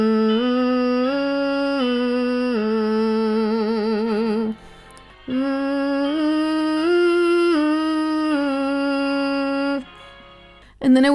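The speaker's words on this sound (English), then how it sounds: "I would do a major third exercise on A flat." A singer sustains a major third vocal exercise on A flat through a straw, with steady held pitches stepping up and down, slight vibrato and one short break in the middle.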